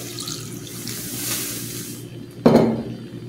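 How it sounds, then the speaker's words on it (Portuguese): Coconut milk poured into a pan of seasonings for Bahian shrimp moqueca gives a short, close splash and gurgle near the end, after a low kitchen hum and faint running-water hiss. "eu vou colocar um pouquinho do leite de coco aqui"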